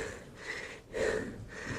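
A person breathes heavily and rhythmically after climbing the stairs of the Skopje clock tower, with three close, breathy exhales and inhales in quick succession, quiet and without speech.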